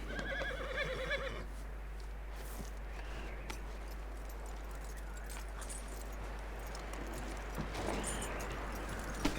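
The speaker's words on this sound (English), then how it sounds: "That looks like a decent horse." Horse neigh from the video game Red Dead Redemption II, a clear whinny near the start over steady game ambience, with faint hoof and tack sounds following.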